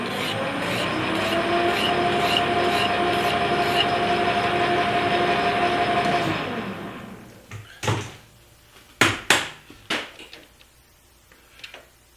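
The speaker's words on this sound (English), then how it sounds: "I lock the carriage, and I just file this edge." Hand file stroking along the edge of a metal Heim joint spacer locked in a lathe carriage: steady rasping for about six seconds, then a few separate louder scrapes and knocks, close by and alone.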